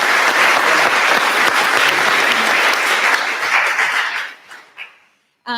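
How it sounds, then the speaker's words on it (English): A live audience applauds panellists at a podcast launch event, dense and loud clapping that holds steady before tapering off into a few scattered claps near the end. "Another round of applause for the generosity with which they've shared their stories."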